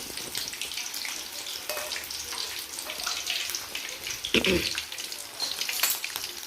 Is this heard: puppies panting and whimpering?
no